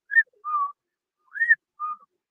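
A person whistles in imitation of a mysterious whistling heard in the hills of the Navajo Nation: four clear separate notes, two rising and two steady, with silence between them.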